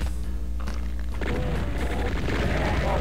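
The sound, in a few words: rocket explosions in the video game The Plutonia Experiment (Doom)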